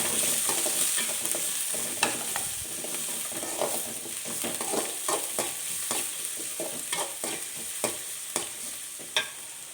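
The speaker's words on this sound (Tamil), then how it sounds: "இப்போ நம்ம வெங்காயம், பச்சை மிளகாய் போட்டுக்கலாம். அதில் கருவேப்பிலை எல்லாமே போட்டு நம்ம அப்படியே வதக்கி விட்டுக்கலாம்." Onions, green chillies and curry leaves sautéing in a pan, a soft continuous sizzle broken by frequent scraping and tapping of a spatula against the pan, close and steady.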